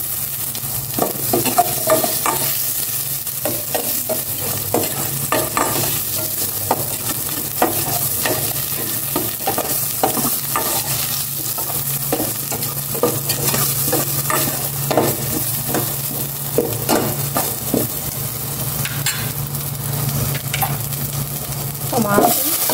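Onion sautéing in a pan, with a steady broadband sizzle throughout and frequent scraping stir strokes, close and fairly loud, no talk.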